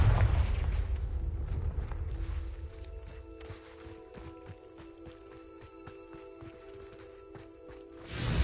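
Confringo fire spells blast repeatedly in Hogwarts Legacy on PS5: a rapid run of sharp impacts over a steady humming tone, with a louder burst at the end.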